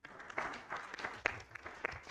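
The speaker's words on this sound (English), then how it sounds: "A well-deserved round of applause" Scattered applause from an audience at a health symposium in Zanzibar, uneven and fairly quiet, with individual claps standing out sharply above the patter.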